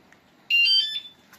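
A DYU C2 electric bike's alarm gives a single short, high electronic beep as it is switched on, clear and close against near silence.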